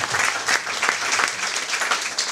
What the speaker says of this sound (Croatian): Još jedan aplauz za njih.